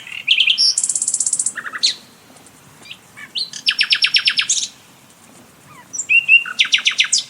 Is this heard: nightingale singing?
yes